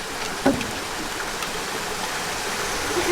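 A waterfall inside a rock quarry at Cedar Lakes Botanical Garden gives a constant, even roar of falling water, with one brief knock early on and no talk.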